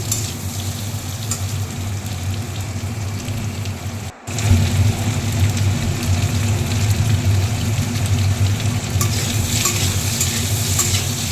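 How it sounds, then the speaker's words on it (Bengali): Potatoes frying in a pan with oil, a loud, continuous crackling sizzle like heavy rain, briefly interrupted once, then resuming with stirring underneath and no voices. "আলুগুলো দিয়ে একটু নাড়াচাড়া করে দিয়ে দেবো"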